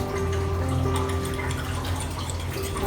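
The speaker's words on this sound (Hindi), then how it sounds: "और थोड़ा पानी ऐड कर लेते हैं।" Water steadily pouring and splashing into a bowl of whipped yogurt while making dahi bhalla in a home kitchen, a continuous close trickle with no voices.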